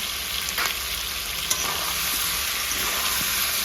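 Whole cumin and salt sizzle in a hot pan, a steady close frying crackle broken by a few light stirring clicks.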